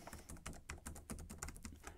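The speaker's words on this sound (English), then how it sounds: "brown switches compared to blue switches are much quieter." Typing on the built-in mechanical keyboard of an Eluktronics Mech 17 G1R laptop with brown switches, a quick, irregular run of soft, close clicks and taps, fairly quiet and with no voices.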